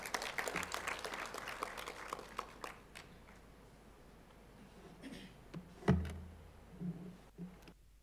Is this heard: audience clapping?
yes